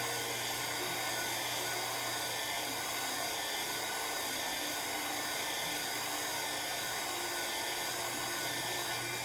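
A heat gun runs steadily on a 20-ounce curved tumbler, a constant airy whir at even volume with no breaks throughout.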